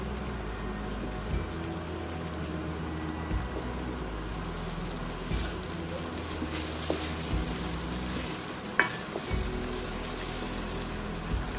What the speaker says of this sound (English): Saute this until it gets pretty golden.